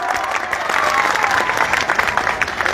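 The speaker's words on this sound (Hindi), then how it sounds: "मैं चाहूंगा जोरदार ताली" Loud, dense applause from a crowd at a political rally claps continuously for a few seconds, close and energetic, with a murmur of voices mixed in.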